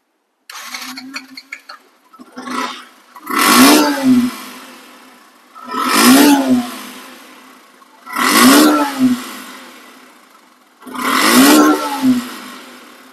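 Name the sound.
motorbike engine started and revving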